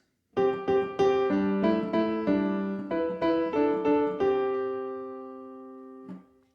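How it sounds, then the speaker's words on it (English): A short melody of sustained keyboard-like chords, each note harmonized in parallel fifths, played clearly in a quick sequence before ringing out and fading. "But if you used parallel fifths, it would sound like this."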